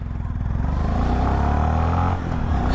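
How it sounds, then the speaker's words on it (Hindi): A 2024 Honda CB350 motorcycle starts up and pulls away in first gear, its thumping single-cylinder engine note rising steadily and loud close by. "बाइक को करते हैं स्टार्ट। First gear,"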